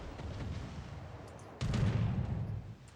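Naval gunfire from a mobile warship battle game sounds as one heavy booming shot partway through. It is fairly quiet, with low rumbling combat noise before and after.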